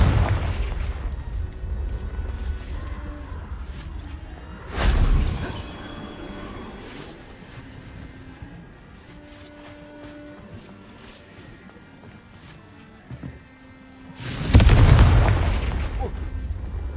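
Confringo explosion spells in Hogwarts Legacy: two loud blasts stand out, one near five seconds and a bigger, bass-heavy one near fifteen, over a low rumbling game backdrop with faint tonal effects and a brief thud between them.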